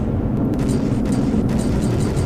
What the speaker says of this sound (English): So we got cannon fire going into him.